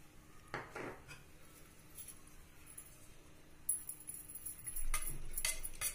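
Milk powder stirred into eggless vanilla cake batter in a bowl, heard as light clinks and scrapes of a spoon against the dish, quiet at first and busier toward the end.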